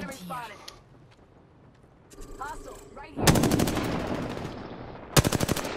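Automatic weapon fire in Apex Legends, bursts of rapid gunshots that grow louder partway through and end in a sharp close volley, with game noise and brief voice sounds earlier.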